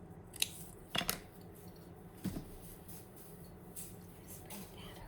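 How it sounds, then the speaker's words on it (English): Scissors snipping material on a Valentine's Day ornament wreath, a few quiet, brief cuts spread out against a soft, low background. "I'm going to snip this off right here."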